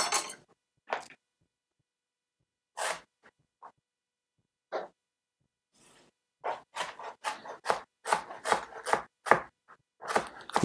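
A knife roughly chops parsley for a bean, avocado and tomato salad: a few scattered, crisp cuts with pauses, then a quicker run of close, sharp chops.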